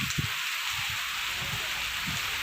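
Rain falls in a continuous, even wash of noise, with a few faint low thumps underneath and no voices.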